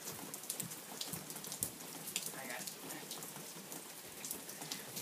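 Steady light rain patters on a surface outdoors, soft and fairly quiet, with a fine continuous hiss broken by scattered sharper drops.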